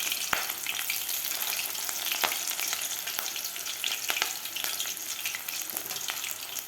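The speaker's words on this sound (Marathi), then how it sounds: "व्यवस्थित आपल्याला हे मिरच्या तळून घ्यायच्या आहेत" Green chillies frying in hot oil in a pan give a steady, loud, continuous sizzle with occasional sharp pops and crackles, close by, with no voices.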